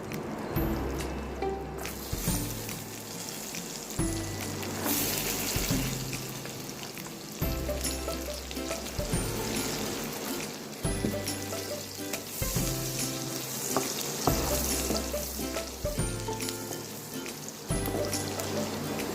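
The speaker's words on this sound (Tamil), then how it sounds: "பூண்டு இப்போ ஓரளவுக்கு நல்லா ஃப்ரை ஆயிடுச்சு." Garlic fries in melted butter with a loud, continuous sizzle, broken by regular low thumps and stirring scrapes roughly every second or two, close up and without talk.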